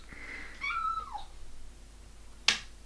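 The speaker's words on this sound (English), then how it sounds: "she always meows when I stop playing with her" A blue point ragdoll kitten gives a couple of soft, close, rising and falling meows, followed after a short pause by a single sharp click.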